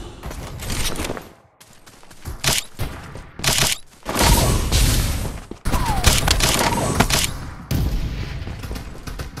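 Gunfire in the battle royale game Farlight 84, dense bursts of rapid shots and booming impacts coming in waves, loud and close, with short gaps between volleys.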